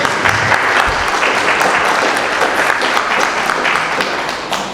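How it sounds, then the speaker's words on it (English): Sustained audience applause at a ceremony, a dense, even wash of many hands clapping together at a steady volume that tapers slightly at the end, with no voices over it. "a short round of applause for Ty James for the translation"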